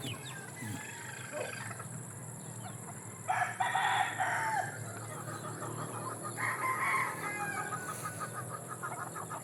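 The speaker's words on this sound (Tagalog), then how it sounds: "Niya itong mga manok dire." Chickens cluck nearby while a rooster crows loudly a couple of times, with a constant buzzing background throughout.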